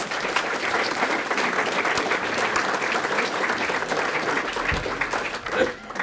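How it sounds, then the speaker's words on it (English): Loud, steady applause from a dinner audience at a community award presentation, many hands clapping in a continuous dense roar with some chatter mixed underneath. "Round of applause for all these folks."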